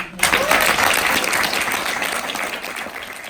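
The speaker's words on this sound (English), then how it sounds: "I'd like to give a big round of applause to all the students" A room full of people bursts into applause for students, starting abruptly and holding as a thick, steady clatter of clapping that eases slightly toward the end.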